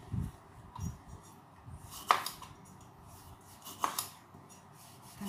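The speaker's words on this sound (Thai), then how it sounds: "ขอหั่นมะนาวแป๊บนิดนึงนะ" A knife cuts through a fresh lime on a kitchen board, giving a few soft cuts and then two sharper crisp knocks of the blade meeting the board. The sounds are quiet and close, with no talking.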